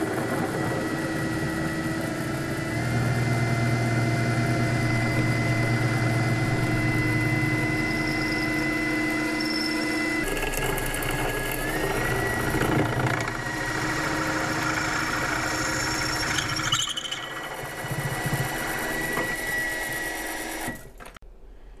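A drill boring with a 9/16 Deming bit, a steady mechanical whine and hum that runs continuously with a few shifts in tone before it winds down at the end, close and loud with no talking.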